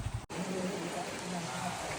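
Steady rain pours down as a dense, even hiss throughout, broken only by a brief dropout near the start, with no clear voices over it.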